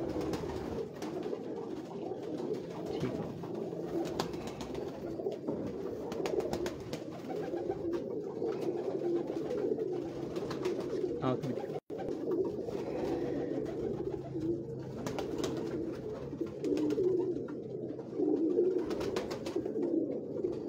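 Pigeons coo steadily on a Lahore rooftop, a dense, continuous murmur of overlapping low calls from several birds close by, with a brief sharp click near the middle.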